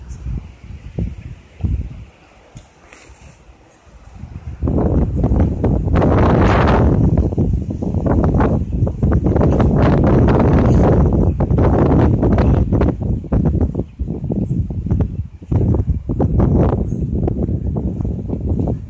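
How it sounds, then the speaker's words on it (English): Strong outdoor wind buffets the microphone during a walk with a dog, roaring loud and steady after a quieter start, with gusty rustling and a brief voice early on. "Woo, it's windy."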